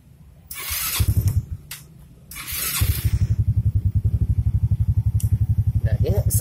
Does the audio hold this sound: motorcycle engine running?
yes